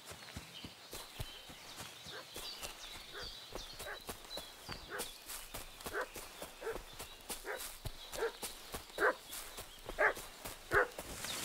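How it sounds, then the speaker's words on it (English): In Kingdom Come: Deliverance 2, a dog barks repeatedly in sharp bursts that grow louder toward the end, over steady horse hoof clip-clops on a medieval village path. "What's that dog making such a fuss about?"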